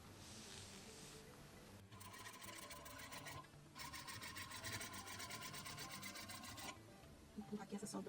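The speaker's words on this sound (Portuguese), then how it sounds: "E vou começar a costurar aqui." A sewing machine stitches fabric in two close, sustained runs of rapid, evenly pulsing needle strokes, with a short pause between them and quieter handling before and after.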